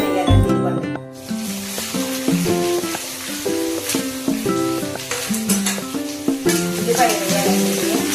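Sliced onions fry in hot oil for chicken do pyaza, giving a steady close sizzle and some stirring under tuneful background music.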